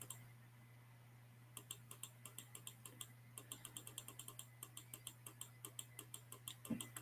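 Computer keyboard typing and mouse clicking: a quiet room hum at first, then rapid, fairly even bursts of crisp key clicks close by, running steadily with brief pauses, alone without talk.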